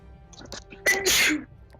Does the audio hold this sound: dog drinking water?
no